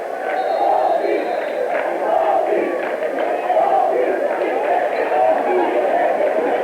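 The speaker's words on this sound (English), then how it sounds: "The Mountlake Terrace crowd starts calling the ref Baldy" High school basketball crowd at a Mountlake Terrace district tournament game chanting at the referee, a loud, rhythmic mass of voices repeating a taunt in steady waves throughout.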